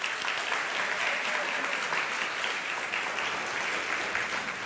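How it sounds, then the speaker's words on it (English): A church congregation claps steadily for several volunteers thanked by name, a dense, even wash of applause from many hands that holds at one level throughout with no voices on top. "You can clap"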